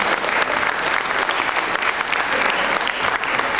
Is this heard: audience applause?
yes